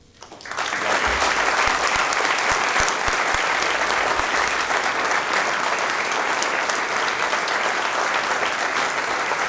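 Sustained, loud audience applause at the Richland Police Department 2017 awards ceremony for the award recipients, rising sharply at the start and holding steady throughout.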